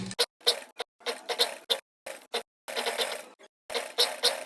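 A sewing machine stitches piping onto thin satin kurti fabric, a run of short mechanical bursts broken by brief pauses, close and fairly quiet, with no talk.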